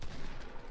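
Fortnite gunfire in a squad match, a dense, continuous burst of rapid shots over a short moment, loud and close with no clear gaps.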